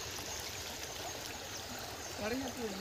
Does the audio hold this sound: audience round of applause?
no